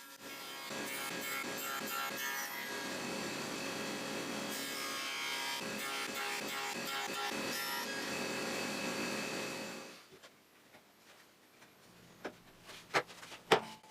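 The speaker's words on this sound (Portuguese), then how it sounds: "Depois, na serra de bancada, removo todo esse material para encaixar perfeitamente." A table saw works through wood cutting half-lap joints, giving a steady, loud rasping whine for about ten seconds. It then drops to quiet, followed by a few sharp knocks and taps.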